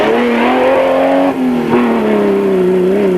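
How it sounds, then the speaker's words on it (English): Rally cars racing in the 1995 Baberspan 500, an older Toyota Land Cruiser and a Nissan Safari, with a loud, sustained engine drone that shifts pitch slightly as the vehicles press on, close and steady. "Jannie Visser and Johan Bester had also stepped up the pace in the older Land Cruiser"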